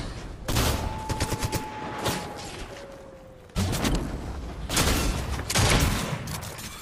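Fortnite gunfire rings out in rapid bursts of shots, with loud volleys separated by short pauses and a thin whistling tone in the early part.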